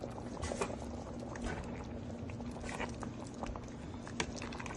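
Mung beans (monggos) cooking in coconut milk boil in a pot, a soft continuous bubbling and gentle popping close by, with occasional small clinks, and no talking.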